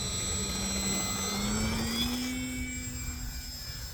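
A QQ Yak 55 model airplane flying a landing approach, its small engine giving a steady, moderately distant buzzing whine whose pitch rises slightly over a few seconds.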